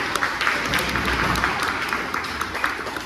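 An audience at Pleasurewood Hills gives a round of applause: dense, moderately distant clapping that holds steady and then thins slightly toward the end.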